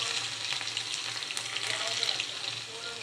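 Cumin, mustard seeds and crushed garlic sizzle steadily in hot oil for a cluster bean dish, a close, continuous crackling hiss with no speech over it.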